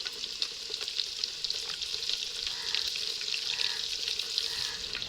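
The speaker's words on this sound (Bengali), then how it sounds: "তেল গরম হয়ে গেছে, আলুগুলো ভেজে নেব।" Potato pieces frying in hot oil with a pinch of turmeric, a bright continuous crackling sizzle with light bubbling that holds steady throughout, close up and free of speech.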